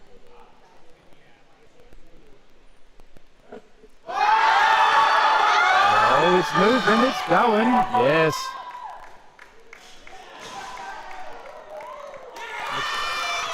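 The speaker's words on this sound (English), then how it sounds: "The crowd were cheering so loudly, he didn't hear the rack call." A crowd at a powerlifting meet erupts into loud, sustained cheering, whoops and shouting that swell suddenly and stay intense for several seconds before easing, with people talking nearby.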